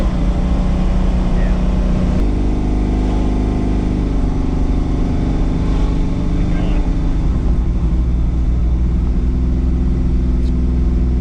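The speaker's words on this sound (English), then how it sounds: "this thing makes a lot of road noise" Constant loud drone of road noise and engine hum from inside a manual truck while driving, with steady tire roar and slight pitch shifts as gears change, and faint voices under it.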